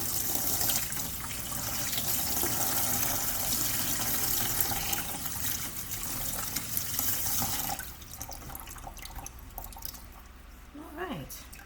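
Tap water runs steadily into a sink while kidneys are rinsed after soaking in salt water, a constant splashing rush that eases off near the end into quieter drips and handling.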